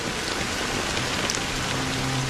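Steady, dense video-game rain pattering on a surface, a continuous even hiss without pauses.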